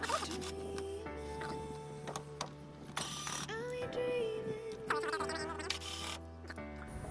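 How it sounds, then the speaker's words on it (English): Socket wrench loosening 8mm bolts on a Briggs & Stratton lawn mower carburetor, with a series of close ratcheting clicks and metallic scrapes in short bursts against a faint steady hum. "you're just gonna want to grab your 8mm socket and pull these off real quick"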